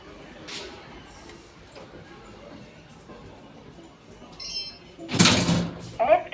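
Lift doors at Canary Wharf slide shut after quiet ambient hum, ending in a short loud thud and rattle near the end.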